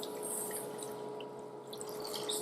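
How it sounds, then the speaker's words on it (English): Milk pours into a pan of melted butter for a yeast dough, giving a steady close liquid hiss and gentle bubbling that carry on without a break and without voices. "what I'm going to do is add the milk in"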